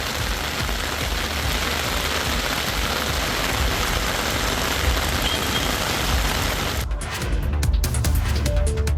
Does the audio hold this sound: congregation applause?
no